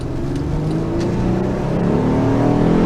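A 2011 Honda Odyssey EX-L minivan accelerates down a highway on-ramp, its engine droning steadily and rising in pitch as it gains speed, heard from inside the cabin with road noise underneath and no talking.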